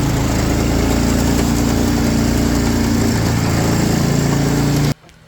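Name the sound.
John Deere AMT utility vehicle engine driving off-road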